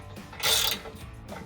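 A ratchet clicks briefly and close by while tightening bolts on Barricade HD rocker steps on a 2021-2023 Ford Bronco, with one louder burst of rapid pawl clicks between quieter mechanical ticks.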